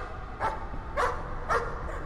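A dog in the horror video game Layers of Fear barks three times at a steady pace, moderately close over a low background drone.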